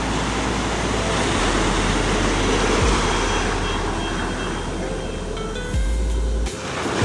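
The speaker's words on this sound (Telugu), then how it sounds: "హెలికాప్టర్ వచ్చి వెతుకుతుంది." An aircraft engine drones steadily overhead at Polem Beach in Goa as a helicopter searches for a missing person, its broad roar loud and continuous over the rush of surf.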